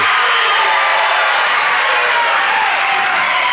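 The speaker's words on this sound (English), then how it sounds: "Not a real big crowd tonight. Boy, they're into it." Small crowd cheering and clapping at a high school wrestling match, a loud, continuous roar of voices and applause without pause.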